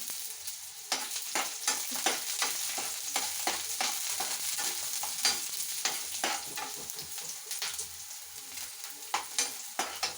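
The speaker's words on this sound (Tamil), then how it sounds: "இது கொஞ்சம் நல்லா வந்து பொன்னிறமாக ஃப்ரை பண்ணி வரட்டும்" Garlic fries in a hot pan with steady sizzling while a utensil stirs and scrapes in repeated sharp clicks, close and clear, during the making of a curry leaf thokku.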